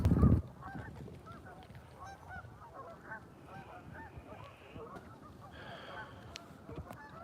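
Geese honk repeatedly out on very cold open water before a snowstorm, a steady chorus of overlapping calls at moderate distance, opening with a brief loud thump close by.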